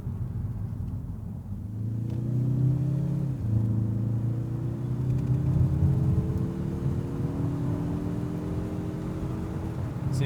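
A 2021 Mazda3 Turbo AWD in sport mode accelerates, its engine note climbing steadily in pitch with an audible upshift partway through, a smooth continuous drone heard from inside the cabin.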